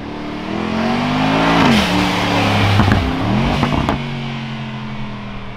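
A custom Brabus Mercedes G-Wagen's engine idles with a deep rumble, then revs loudly several times, the pitch climbing and falling between blips, recorded close from outside the vehicle.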